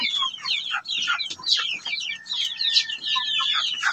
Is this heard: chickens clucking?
yes